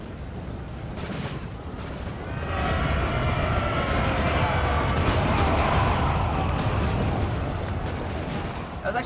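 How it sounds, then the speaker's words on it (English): Massed infantry musket volley in a Napoleonic-era Austrian versus French battle in Napoleon Total War, a dense crackling roar of many shots rising at about two and a half seconds and rumbling on over battlefield noise with some talk. "Actually a decent volley, catching the French."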